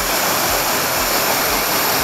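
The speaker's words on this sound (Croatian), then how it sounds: "kupati ispod ovog vodopada" The Skakavac waterfall at Kotor Varoš roars as a loud, steady, close rush of falling water, with no voices over it.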